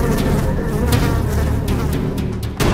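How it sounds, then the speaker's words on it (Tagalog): Dense swarm of houseflies buzzing during harvest season in a Laguna home, a loud continuous close drone with individual flies whining past now and then. "Kumakapal ang bilang ng mga langaw na ito kada harvest season."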